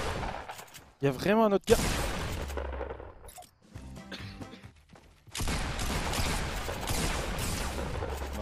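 Gunshots in a battle royale video game ring out in sharp bursts and a long sustained stretch of fire near the end, with players talking over the noise.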